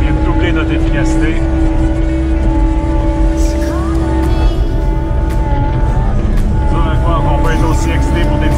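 A skid steer running a John Deere PR 72B power rake, with a loud, steady engine drone and a sustained mechanical whine throughout. Intermittent clatter and scraping sit under it, along with some talk.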